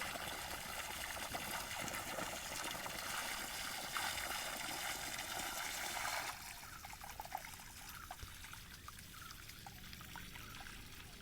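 Water gushes from a burst Japan-brand pipe, a dense continuous rushing roar that steps down partway through to a quieter steady flow, with no voices.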